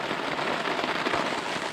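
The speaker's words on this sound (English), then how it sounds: "the rain's slowing down now." Rain falling outdoors as a steady, dense patter across a surface, a continuous hiss of drops close by, with no voices during the brief stretch.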